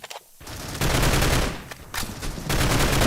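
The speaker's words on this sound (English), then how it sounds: "Level popping some shots with the Scar" Bursts of automatic rifle fire from a SCAR in the mobile shooter Critical Ops during a competitive playoff match, rapid loud volleys filling most of the clip with brief lulls between them.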